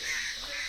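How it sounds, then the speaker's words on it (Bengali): A single crow-like caw rings out in a quiet forest near Barfung, loud and close, with hissy insect-like background noise. "আর সুন্দর চারিদিকে পাখির ডাক শুনতে পাওয়া যাচ্ছে।"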